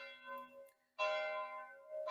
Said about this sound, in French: les cloches de l'église